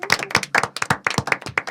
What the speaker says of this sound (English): All right, clap for yourselves, guys.